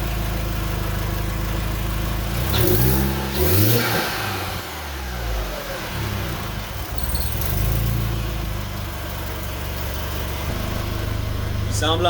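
A Mk1 Rabbit with a 1.8t 20v engine, idling and then given a quick throttle blip that swells the revs before settling back, heard close up with a voice talking over part of it.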